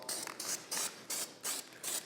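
A spray paint can sprays camouflage onto a hunting bow in six short, evenly spaced hissing bursts, each about a quarter second long, close and clear with no talking.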